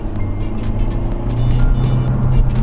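A Hyundai Kona diesel revs after a manual-mode downshift from fourth gear at about 50 km/h, heard from inside the cabin as a loud, steady low engine drone that swells slightly as it accelerates.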